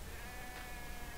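A faint sheep bleat in a video game, short and wavering, heard against a steady background hiss.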